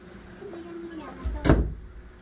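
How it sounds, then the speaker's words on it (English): A house door swings shut with a single solid thump, close by, after a quiet stretch with a faint tonal hum and a hint of a voice in the background. "You should be careful when closing doors."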